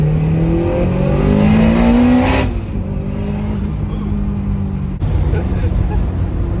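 A Honda S2000 engine with a twin-disc clutch climbs in pitch, drops sharply, then blips again during rev-matched downshifts, heard from inside the car with a steady drone underneath.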